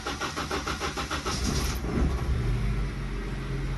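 A car engine being cranked and catching roughly after new fuel injectors were fitted, with rapid rhythmic cranking pulses giving way to a rough, uneven idle, close and loud.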